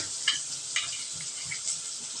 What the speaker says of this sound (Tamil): ஒரு 15 சின்ன வெங்காயம் அரிஞ்சு தட்டி வச்சுருக்கிறேன், அதையும் போட்டு வதக்கிக்கலாம்